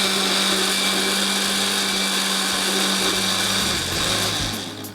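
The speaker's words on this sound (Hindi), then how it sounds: "चलो बहुत देर तक ब्लेंड करने की नहीं कोई ज़रूरत नहीं, बस चीज़ें मिक्स हो जाना चाहिए।" Blender whirring through a jalebi pudding mixture, a loud, steady motor drone close by that holds for several seconds and then winds down at the end.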